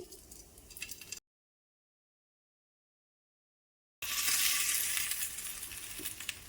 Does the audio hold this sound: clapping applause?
no